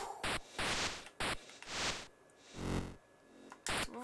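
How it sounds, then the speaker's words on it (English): Bursts of harsh white-noise static from the 1980 Activision Skiing game on Atari, loud hissing swooshes of varying length, some short and clipped, others swelling and fading, repeating irregularly as the skier moves. "The white noise, the skier. It's really good sound."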